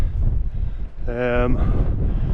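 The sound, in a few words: strong wind on a Scottish mountain hillside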